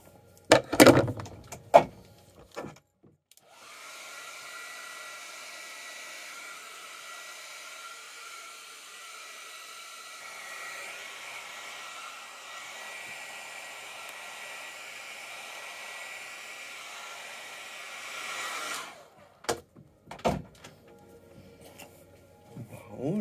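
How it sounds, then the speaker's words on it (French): A handheld hair dryer blows in a steady, loud whoosh for about fifteen seconds while hair is brushed, framed by short clattering handling noises before and after. "je vais prendre ma brosse avec le séchoir"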